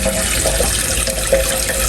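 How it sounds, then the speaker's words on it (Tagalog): Soaked milkfish rinsed under a running kitchen tap, a steady close hiss of water splashing into a sink with small clinks of handling throughout. "itong ating mga bangus na binabad sa tubig na may asin ay atin pong huhugasan"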